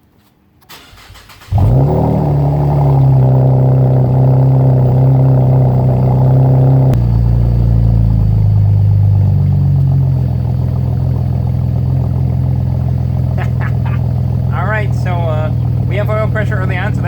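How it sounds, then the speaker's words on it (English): A 2015 Camaro V6 with fresh oil cranks and fires on a cold start, settling into a loud, steady, near idle with a drop in pitch partway through; a voice speaks over the idle near the end. "cold start up 2015 Camaro with a fresh oil change"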